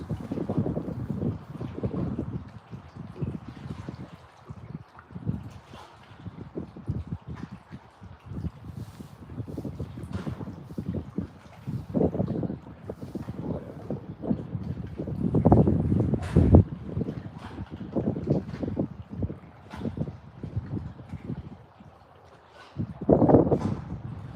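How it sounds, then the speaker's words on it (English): Strong gusting wind buffets the microphone on a boat during night crappie fishing, a steady roaring rumble that swells in loud surges around the middle and again near the end, with no voices. "That wind is something else."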